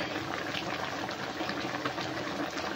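A pot of fish curry with potatoes and taro boils steadily, giving a dense, continuous bubbling hiss that stays close and even throughout with no talking.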